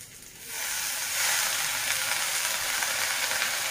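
Leafy greens fry in a hot pan, the sizzle jumping up sharply as they hit the oil and then holding as a steady, close hiss.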